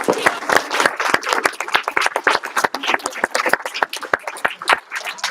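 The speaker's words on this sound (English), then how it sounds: "one more round of applause" Small martial arts class clapping in an irregular patter of distinct, close hand claps, loose rather than in unison, continuing without pause.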